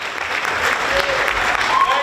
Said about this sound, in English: One more round of applause for Austin Ashford